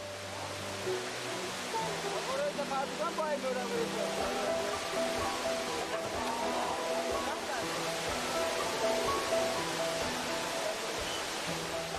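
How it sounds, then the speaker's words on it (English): A steady, broad rush of a 70-meter waterfall fills the scene, with faint voices of visitors mixed into the continuous roar. "People come from far and wide to visit this waterfall."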